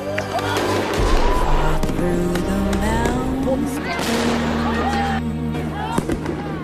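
Police fire rubber bullets at student protesters as a campus building is retaken, sharp bangs popping repeatedly amid a crowd of shouting, talking voices.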